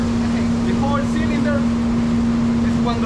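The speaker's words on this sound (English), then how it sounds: "This is the dryer." A large cylinder coffee dryer on a coffee estate in Ataco, El Salvador, runs with a steady, loud mechanical hum and rumble that drones on without a break, while faint voices sound in the background.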